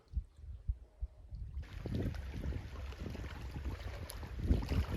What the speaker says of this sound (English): Going to paddle out about 6K to my campsite.